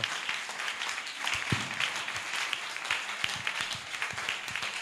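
Applause from a church congregation, a steady wash of many hands clapping at moderate distance with a few sharper claps standing out, fairly quiet and without talk.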